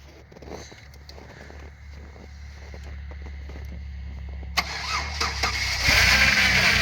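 A car engine cranks and turns over in freezing cold of about minus 10 degrees, catching and revving up louder toward the end, with a steady low rumble throughout.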